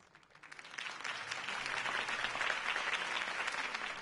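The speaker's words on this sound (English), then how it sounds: "If only Mr. Wayne, my campaign's largest backer, could have heard that applause" Crowd applause in the Batman: The Telltale Series video game follows a mayoral campaign speech, swelling from quiet into sustained, dense clapping that holds steady to the end.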